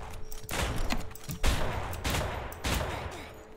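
Gunfire at police in the Roblox game Jailbreak, with several loud bursts of shots in quick succession and a steady background of game noise.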